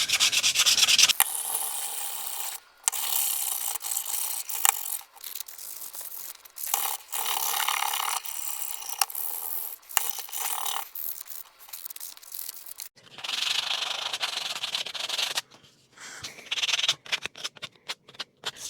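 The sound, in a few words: hand sanding wooden project with fine grit sandpaper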